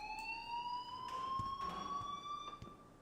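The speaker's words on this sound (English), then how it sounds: "please turn off that alarm since that's your job." A school alarm rings in the video game Life is Strange: a steady, piercing electronic tone with bright overtones holds throughout, with faint background clatter and no speech.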